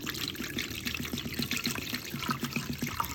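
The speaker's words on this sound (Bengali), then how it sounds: "এইটা এখন একটু পানি দিয়ে দিচ্ছে।" Water poured into a garlic and lemon juice mixture, a close, quiet trickle and splash running steadily for a few seconds with small liquid clicks.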